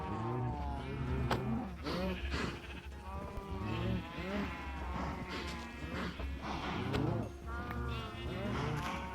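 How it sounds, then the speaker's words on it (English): A baby cow in Minecraft lets out high, bleating moos, repeated several times in a close, fairly quiet stream of overlapping calls. "Sorry, baby cow."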